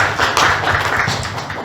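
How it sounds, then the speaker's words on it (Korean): A church congregation claps at a Christmas Sunday worship service, a close, loud burst of rapid, uneven hand claps lasting a moment with no talk over it. "박수 올려드립니다."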